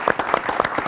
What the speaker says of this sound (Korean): 박수 한번 다시 한번 주시고요